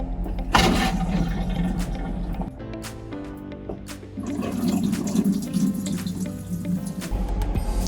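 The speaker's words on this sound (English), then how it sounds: "Flushing is simply pressing the central button on the control panel." A Dometic CTS 4110 ceramic bowl toilet flushing at the press of a button, a sudden rush of water followed by gurgling and trickling that swells again toward the end, close by with no talk.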